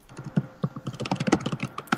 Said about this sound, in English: Jason, what's with your keyboard, Johnny?